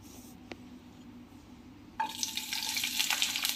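Chopped onion and capsicum begin sizzling in hot oil in a pan after a quiet stretch, a sudden rising hiss that continues close and steady to the end.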